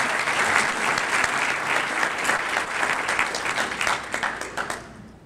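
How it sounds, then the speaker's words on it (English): Audience applause at a green business recognition event, a dense wash of clapping from a large crowd that stays steady and loud before thinning and tapering off near the end. "Please give them a big round of applause."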